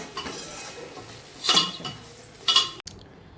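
A pot of goat meat curry is stirred with a metal spoon, giving two distinct scraping clinks against the pot over faint background kitchen noise.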